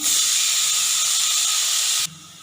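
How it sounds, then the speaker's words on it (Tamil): Beetroot goes into a pan of hot ginger-garlic paste with garam masala, bursting into a loud, bright hiss of sizzling for about two seconds before it drops abruptly to a low simmer. "இஞ்சி பூண்டு பச்சை வாசனை போனதும் பீட்ரூட் இதோட சேர்த்துருவோம்."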